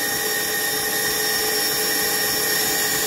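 An electric mixer beating buttercream runs with a steady, loud motor whine and a constant hum, heard close up and alone with no talking.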